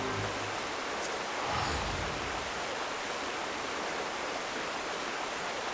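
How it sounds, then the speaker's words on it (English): A loud, steady waterfall roars in the Final Fantasy 14 video game, a dense continuous rush of falling water that fills the whole stretch with no talking over it. "That damn waterfall is so goddamn loud in my ear."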